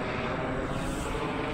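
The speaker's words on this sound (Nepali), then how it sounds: "मजाले माथि हेलिकप्टर उडिरहेछ है।" A helicopter flies overhead above a mountain viewpoint with a tower, producing a steady broadband engine and rotor roar, moderately loud and continuous with no talk.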